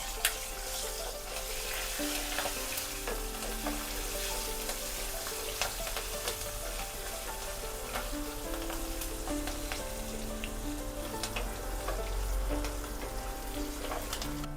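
Sliced green chillies and dried red chillies fry in oil for mango pulihora, giving a dense, continuous sizzle full of tiny crackles that holds steady and close the whole time, with no talking.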